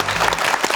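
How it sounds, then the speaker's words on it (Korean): A studio audience at a Korean television antiques appraisal show applauds in a brief, dense burst of many hands clapping together, loud and close. "박수 한번 해드리죠."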